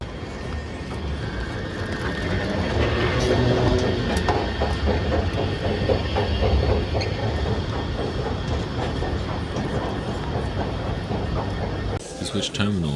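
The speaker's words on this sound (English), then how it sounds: "To switch terminals, this little train will take us to our gate B33." A small airport terminal shuttle train rumbles along with rhythmic clacking and a steady drone, then slows near the end; no words are heard.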